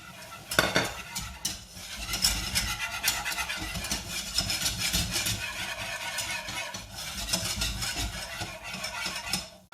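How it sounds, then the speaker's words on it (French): A utensil scrapes and clinks against a pan as flour is stirred into melted butter for a moussaka sauce, with a soft sizzle beneath busy, continuous stirring strokes. "Notre beurre est fondu. On va y ajouter la farine."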